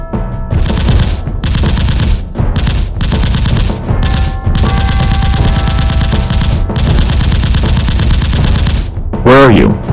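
Gunfire from an animated short rattles in loud rapid bursts like a machine gun, with brief gaps between volleys and a short vocal sound near the end.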